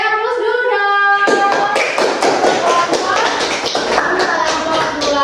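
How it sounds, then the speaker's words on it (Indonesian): Classroom applause from students in a micro-teaching practice lesson breaks out after a short lead-in, a dense burst of many hands clapping together that carries on steadily to the end. "Kita beri aplaus dulu dong."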